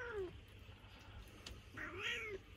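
A cat meows twice on a farmstead in autumn, a short falling call followed after a pause by a longer rising-and-falling meow, close and clear over low background rumble.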